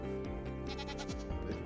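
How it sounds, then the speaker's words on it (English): A goat bleats several times up close during a live fan gameshow, wavering cries layered over steady background music and crowd hum. "Jerry, just be careful with that goat."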